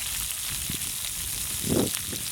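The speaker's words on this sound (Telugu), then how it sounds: "బాగా ఫ్రై చేసుకోవాలి." Onions and green chillies frying in a pan, a soft steady sizzle with a brief louder crackle near the end.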